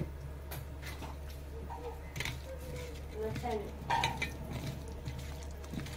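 Mutton head is worked by hand with garam masala, turmeric and salt in a bowl, giving soft squishing and light scraping with a few sharper clinks of the vessel, quiet and close against a low steady hum.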